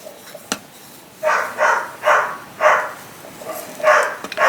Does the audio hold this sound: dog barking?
yes